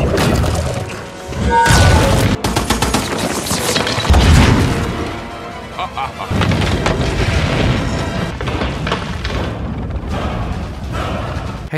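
A volley of gunfire in a battle scene from the animated Marvel series What If...?, with dense, loud booms and crashing impacts running almost continuously and layered over other action sounds.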